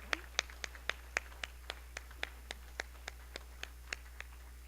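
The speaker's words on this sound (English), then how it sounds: "Let's give them a big hand." Audience clapping at a company service awards ceremony, a sparse run of evenly spaced single claps, fairly faint over a steady low hum, with no voices.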